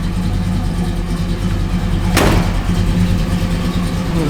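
A 1968 Dodge Charger idles with a steady, throaty low rumble close by, and a brief burst of broadband noise cuts across it midway.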